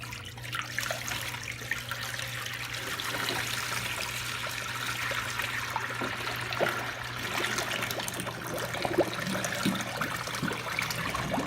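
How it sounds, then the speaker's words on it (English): Sanitizer liquid poured into the mix pan of a SaniServ soft-serve machine, a steady splashing trickle under a constant low machine hum, close and moderately quiet. "you're just going to dump the sanitizer into it"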